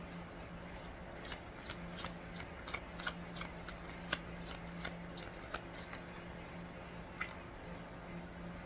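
Cards are shuffled for a card reading, a quiet series of soft, rapid riffling bursts repeating in an irregular rhythm, close and faint against a low steady hum.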